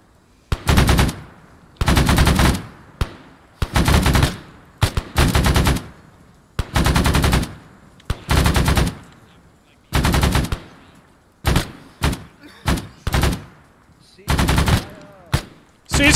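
Repeated bursts of automatic machine gun fire in the Vietnam War game Arma 3 Unsung, loud and close, coming in about a dozen rapid volleys separated by short pauses.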